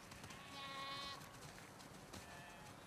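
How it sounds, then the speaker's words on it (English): Sheep bleat faintly in The Last of Us Part II, a couple of wavering calls over a low, quiet ambient background. "Wow, that's a lot of sheep."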